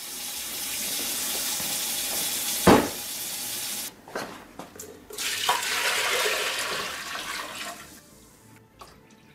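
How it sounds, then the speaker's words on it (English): Vinegar and water mixture boiling in a stainless steel pot set inside another pot, a steady bubbling hiss broken by a brief clatter and a few knocks partway through. "Let me check that vinegar and water boiling mixture and we'll see how that's working."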